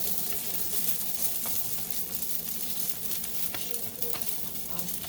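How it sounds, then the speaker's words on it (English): Algerian Mhajeb, a stuffed semolina flatbread, sizzles on a hot pan just after being flipped, with a steady close frying hiss and no voices. "After about 1 minute, we flip it to the other side."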